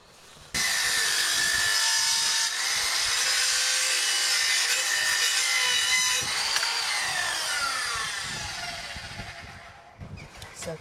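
An oak post being cut for about ten seconds with a steady, loud, continuous rasp that starts abruptly, holds evenly, then fades near the end, with no talking.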